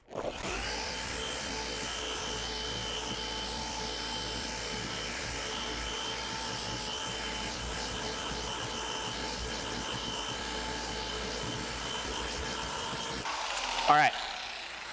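A machine polisher runs continuously over car paint on a 2 by 2 foot test panel, a steady close whirring hum that holds for about thirteen seconds before winding down and stopping near the end.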